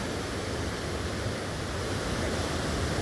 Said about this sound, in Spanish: Cascadas de Tamasopo, amigos.